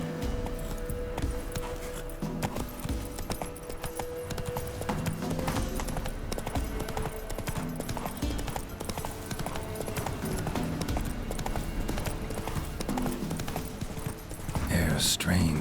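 Steady clip-clopping hooves of the horse Roach at a gallop in The Witcher 3, a continuous rhythmic beat throughout, with a voice speaking over it and a brief whinny-like swell near the end.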